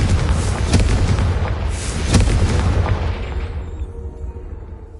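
A Confringo fire spell from the Hogwarts Legacy video game sets off a loud, booming blast with rumbling crackle that rolls on and fades away over several seconds.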